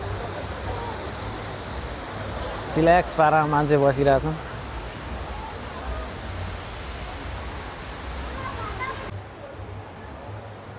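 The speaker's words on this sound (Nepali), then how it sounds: "र यहाँनिर चाहिँ झरना यहीँनिर है।" A waterfall at a crowded cherry-blossom viewing spot near a cafe in Korea gives a steady broadband roar throughout, with a brief burst of voices talking near the start.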